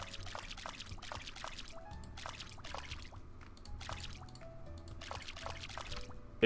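Water trickles and pours in the Forager farming game, a repeating series of short bright dribbling splashes in a loose rhythm over a soft background, fairly quiet.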